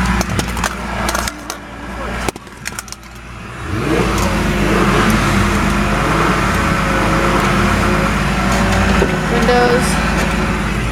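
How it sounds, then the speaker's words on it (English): A used car's engine runs and revs, starting with a few clicks and knocks before a steady mid-pitched engine drone rises and holds close and loud, with a person talking over it. "Engine seems to be running great."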